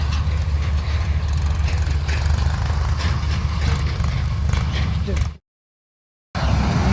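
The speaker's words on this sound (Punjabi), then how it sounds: "ਟਰੈਕਟਰ ਵੀ ਪਹੁੰਚ ਗਿਆ ਮੁੰਡਾ ਉਹ ਆ ਗਿਆ ਲੈ ਕੇ" Tractor arriving at a farm field where a machine is working, a steady loud low engine rumble filling the scene, cut by a sudden drop to silence before resuming.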